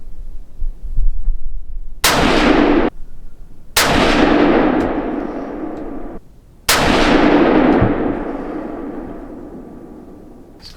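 A Savage Axis 110 Hunter XP rifle in 350 Legend fires Hornady American Whitetail 170 grain rounds at an outdoor range: three loud, sharp reports spaced a couple of seconds apart, each trailing into a long rolling echo.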